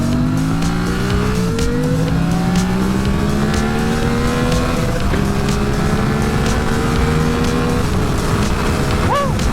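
A Yamaha R7 or Kawasaki ZX4-RR sportbike engine revs hard under heavy wind rush, rising steadily through gears, then blipping sharply on a smooth downshift near the end.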